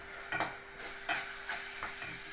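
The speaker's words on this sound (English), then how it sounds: "that's sizzling away" Onions sizzle and crackle in a hot frying pan, with a few soft stirring scrapes at irregular intervals, close up and fairly quiet.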